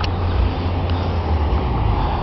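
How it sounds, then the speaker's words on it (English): A city bus pulls in to stop on a Pocatello, Idaho street on a Saturday evening, a low, steady engine rumble with road noise heard fairly close and continuous. "There's a bus stopping to pick some people up."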